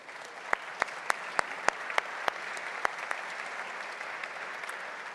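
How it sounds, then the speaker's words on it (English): Conference opening audience gives steady applause, with a few loud, close, sharp individual claps cutting through in the first few seconds over a softer, even wash of crowd clapping. "I would like you to give a big round of applause for them."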